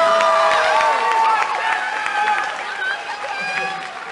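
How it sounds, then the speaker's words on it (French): An audience at a dubbing conference applauds and cheers in a dense, sustained wash of clapping with overlapping voices, fading slightly toward the end. "Vous pourriez applaudir Terence quand même."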